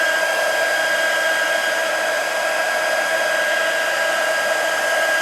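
A heat tool runs steadily and loudly without a break, drying cracking paint over a card stencil; its even, constant whine and rushing airflow hold throughout with no speech or other sounds.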